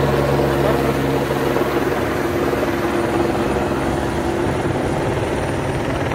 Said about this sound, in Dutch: En dat is de heli.